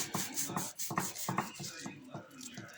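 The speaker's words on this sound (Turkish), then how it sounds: "Lahanadan çiğ böreğimiz pişti. Sizin için kesiyorum." A knife cuts through baked cabbage börek, making a run of rhythmic rasping strokes, about six in quick succession, close and fairly quiet.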